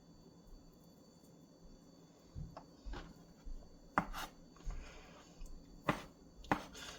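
Chicken is roughly chopped on a board for a ratatouille rustica pasta, with a few sharp knife strikes and scattered knocks spread out over a quiet background, fairly close and moderately loud.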